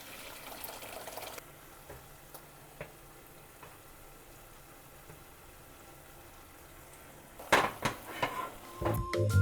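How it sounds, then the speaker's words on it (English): Cooked lentils are drained, with water pouring and splashing into a sink or pot. The pouring is faint and low at first, then a louder burst of splashing and clattering comes near the end. "Now I get to drain the rest of the lentils."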